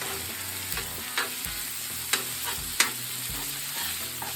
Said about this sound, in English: let them kind of get soft and simmer a little bit over here with that butter and brown sugar